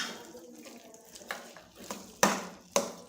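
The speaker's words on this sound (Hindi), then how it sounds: "कीमे और मटर को अच्छे तरीके से फ्राई करना है और मिक्स करना है।" Minced meat and peas frying in a pan, with a low sizzle under scattered scraping stirs and several sharper, louder clatters of a spoon against the pan toward the end.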